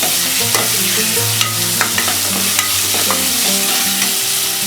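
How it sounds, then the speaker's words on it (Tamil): Tomatoes sauté loudly in a pan for a paneer dum biryani gravy, a steady hiss and sizzle broken by repeated scraping and clinking of a spoon as they are stirred and mashed. "இது நல்லா ஸ்மாஷ் ஆகி வர வரைக்கும் வதக்கி எடுத்துக்கலாம்."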